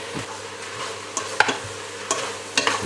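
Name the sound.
stirring French onion soup with garlic and sugar in pot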